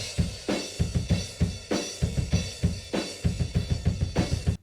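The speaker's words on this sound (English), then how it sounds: "And with no compression at all, it sounds like this." A drum kit captured on room mics with no compression plays a steady rock pattern of punchy kick and snare hits whose room tails decay quickly between beats, loud and heard on its own.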